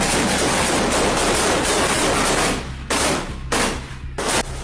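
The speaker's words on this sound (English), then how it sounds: "the controlled bursts of gunfire" Sustained, dense gunfire in combat as soldiers open fire on an infiltrating group, loud and continuous with rapid bursts, then briefly broken by short pauses toward the end.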